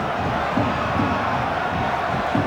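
Football stadium crowd at a 1999 league match giving an anxious, rising murmur and groan, a dense continuous roar of many voices with a few swelling surges, no clear speech standing out.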